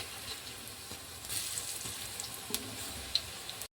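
Bhaje fritters frying in hot oil, a steady close crackling sizzle with small pops throughout, ending abruptly.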